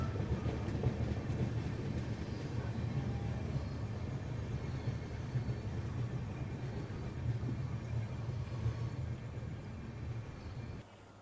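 A direct Bengaluru–Shirdi train rolls at Mantralayam Road station, a steady low rumble with faint rattling that holds evenly and then cuts off near the end, with no voices.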